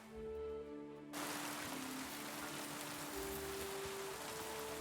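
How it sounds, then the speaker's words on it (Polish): Steady rainfall in Kingdom Come: Deliverance II pattering on surfaces, a constant close hiss of drops with faint tonal hum underneath. "Z czego ten deszcz pada, ja się pytam."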